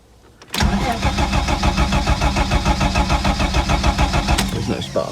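Ford Sierra Mk1 estate 4x4 Ghia with a 2.8i engine and no spark, cranking without firing: the starter kicks in abruptly and then churns in a fast, loud, even rhythm with no catch.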